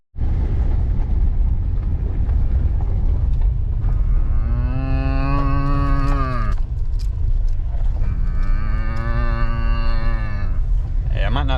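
Cattle on an Arkansas pasture moo loudly in two long, drawn-out calls that answer a human cow call, heard over steady wind or engine noise outdoors.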